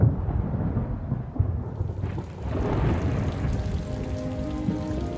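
Rain and rolling thunder over the Botswana bush as the dry season ends, a steady wash of rainfall with low rumbles swelling and fading throughout, no voices.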